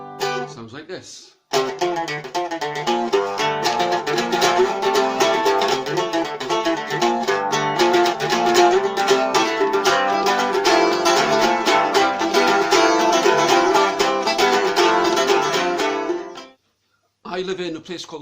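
A mandolin or mandola is played in a steady run of bright plucked notes and strummed chords, close and clear, lasting about fifteen seconds after a short pause and cutting off abruptly.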